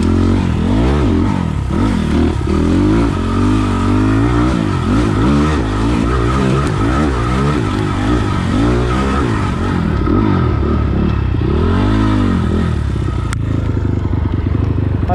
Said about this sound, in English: This is a great trail bike.